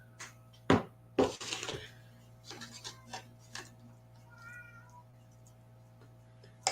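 A house cat meows a few times from nearby in a kitchen during lasagna prep, short calls mixed with clinks of spoons and dishes, while a person talks quietly.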